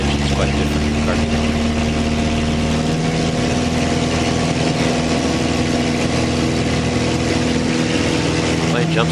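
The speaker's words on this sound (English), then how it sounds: "Notice the sound of the engine is quite different" A small training airplane engine drones steadily at high power during takeoff, a loud continuous mid-pitched hum that stays even across the whole stretch, with no talk over it.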